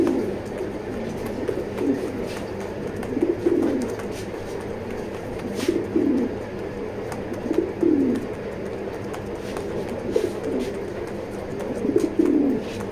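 Male racing homing pigeons coo in a steady rhythm, a soft, low cooing phrase repeating about every two seconds, moderately close against a quiet background.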